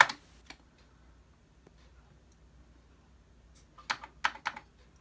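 Keys on a Commodore 64 keyboard being typed during a black-screen repair, a brief click at the start and then a short burst of several close, sharp keystrokes near the end after a quiet stretch.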